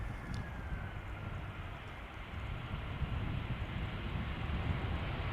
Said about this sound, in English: Air France up next. A320 arriving from Paris Charles de Gaulle, flight 1444.